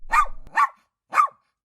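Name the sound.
dog barking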